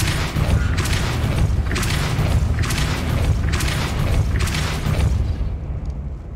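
Depulso spell effect in Hogwarts Legacy: a series of six evenly spaced, heavy booming pulses over a constant low rumble, loud and close, ending in a quieter tail.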